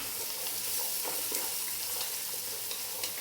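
Chicken pasta sizzles in a pan after chopped capsicum is added, a continuous bright frying hiss with faint stirring scrapes throughout, close and fairly loud.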